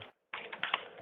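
A quick run of keyboard keystrokes, close and clicky, after a brief pause of silence.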